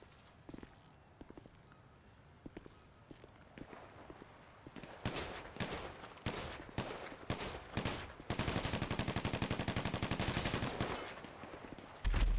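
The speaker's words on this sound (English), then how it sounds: "It is very weird shooting right there." Video game gunfire builds from scattered single shots into dense bursts and rapid sustained automatic fire, loud and close with no talking over it.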